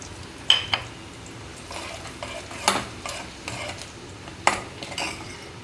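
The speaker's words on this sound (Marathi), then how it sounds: "हे सर्व मिश्रण आपण एकजीव करून घेऊ हे बघा आपले मिश्रण या ठिकाणी छान तेलामध्ये भाजलेले आहे" Roasted onion and coconut mixture is stirred in oil in a pan, with a soft background sizzle broken by several sharp scraping and clinking strokes of the spoon against the pan.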